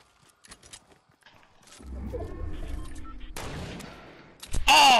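Gunfire erupts across a Fortnite match, a few sharp distant shots at first, then a louder burst of chaotic firing and a final loud close crack at the end.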